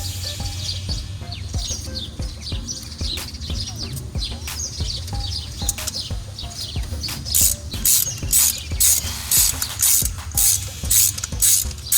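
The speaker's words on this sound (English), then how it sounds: "we're gonna start torquing everything now since we have the proper tools" Torque wrench ratcheting while tightening spark plugs on a 2001 Honda CR-V, a run of quick mechanical clicks that grows into louder, evenly spaced bursts toward the end over a low background hum, with no talking.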